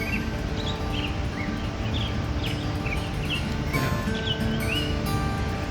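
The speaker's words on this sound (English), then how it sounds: "There's a bird singing." A bird sings a series of short, bright chirps, repeated every second or so over a steady background hum of insects outdoors in the mountains at Hetch Hetchy Reservoir.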